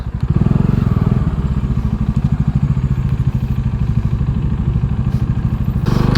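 A motorcycle engine throbs loud and close with a steady rapid chugging pulse as the bike rides the hill road into Darjeeling, continuing throughout.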